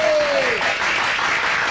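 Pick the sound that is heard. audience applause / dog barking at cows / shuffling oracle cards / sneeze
audience applause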